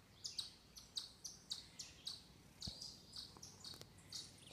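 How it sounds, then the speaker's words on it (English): Small birds chirp outdoors in short, bright repeated bursts, fairly faint and alone, with insects buzzing softly underneath. "And some birds."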